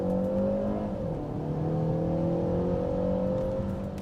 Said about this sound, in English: some fake engine noise is played from the speakers